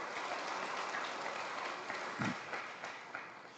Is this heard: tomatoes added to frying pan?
no